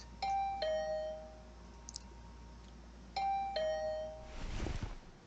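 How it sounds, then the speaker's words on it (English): A doorbell in the video game The Hundred Line: Last Defense Academy rings repeatedly, two clear electronic two-tone chimes a few seconds apart, each a bright ding-dong, followed by a short muffled rustle at the end. "Hearing the doorbell stubbornly ringing again and again, I finally got up."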